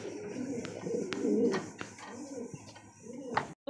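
A pair of Jharna satin pigeons in a small cage coo in soft, repeated rolling phrases close up, with a few sharp clicks and knocks between calls.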